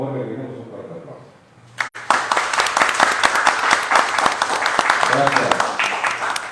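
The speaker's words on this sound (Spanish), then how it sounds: "le pedimos un fuerte aplauso" An audience bursts into loud, sustained applause at a book presentation about a ceramics collection from Amatenango, following a brief spoken introduction, with dense clapping filling the room for several seconds.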